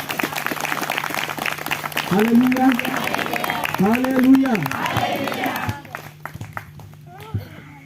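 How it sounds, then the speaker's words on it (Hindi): A church congregation claps loudly in praise during a Hindi worship service, steady dense clapping running throughout as voices call out and chant over it, the clapping thinning toward the end. "परमेश्वर को जोर से ताली को बजाएं"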